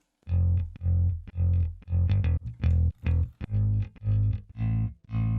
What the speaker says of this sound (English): This is the bass in the chorus.